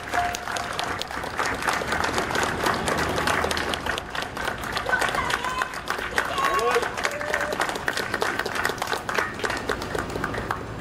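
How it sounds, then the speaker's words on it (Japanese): Crowd applause at a Japanese candidate's campaign kickoff rally for the 2024 House of Representatives election, a steady, dense clapping that runs throughout, with talk and voices mixed in over it. "皆さん大きな拍手をお願いいたします。"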